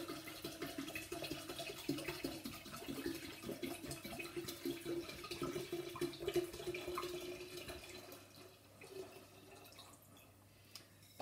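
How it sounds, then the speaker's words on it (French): Red wine poured from a bottle into homemade vinegar, a steady soft gurgling stream with faint drips, continuous and fairly quiet, then thinning toward the end. "Et je verse le vin rouge."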